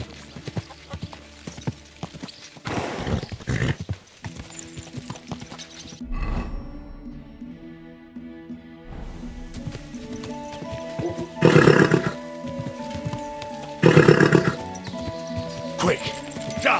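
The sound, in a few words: horse neighing in Kingdom Come Deliverance II video game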